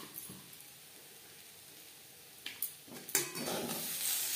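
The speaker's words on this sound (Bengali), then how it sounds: "বিট গাজরের সাথে বেশ ভালো করে মিক্স করে দেব।" A beetroot and carrot mixture with green chilli and coriander is stirred in a cooking pan, giving faint scrapes and a few louder clinks of utensil on metal near the end, with a soft sizzle beneath.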